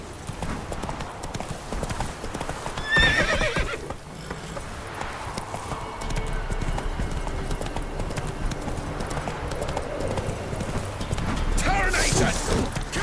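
Roach the horse gallops in The Witcher 3, rapid hoofbeats thudding steadily throughout, with a short whinny early on and game sounds layered around the clip-clop.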